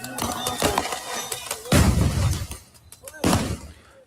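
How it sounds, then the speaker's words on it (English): Tear gas launchers firing on protesters during a Minneapolis clash, heard as a few sharp, heavy booms spaced a second or two apart over outdoor crowd noise. "We got the more tear gas being deployed."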